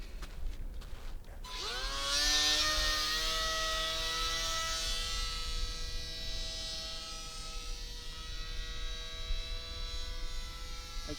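The electric motor of a WLtoys F949 Cessna 182 RC plane spools up to a high whine on launch, then holds a steady buzzing drone that slowly recedes as it flies off outdoors.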